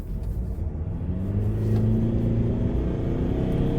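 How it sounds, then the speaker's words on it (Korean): A car engine accelerates hard up an uphill road, a rising revving drone with a steady low rumble as the pitch climbs, close and continuous, without talk. "오르막길에서 한번 급가속을 한번 해 볼게요"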